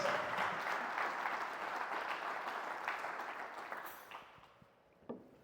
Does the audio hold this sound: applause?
yes